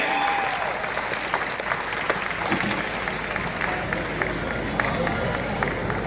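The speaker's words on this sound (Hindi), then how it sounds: "एक जोरदार तालियां सारे लोगों के लिए हमारे" Audience clapping at a company's product event hall in Raipur, a dense, sustained round of applause with crowd murmur and some voices mixed in throughout.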